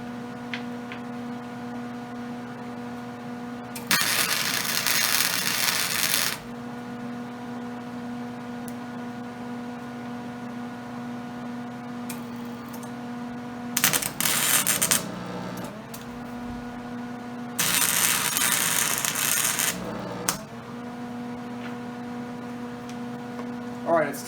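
Tack welding scrap metal into a flail, three loud crackling buzz bursts of a few seconds each over a steady electrical hum, close and without talk.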